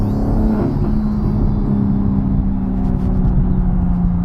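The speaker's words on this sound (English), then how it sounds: "downshift. Get a nice bit of burbles there." A modified BMW G80 M3 with a manual gearbox holds a steady, loud engine drone, with a low, rumbling exhaust burble as it downshifts. The sound is continuous from inside the car, with no talk.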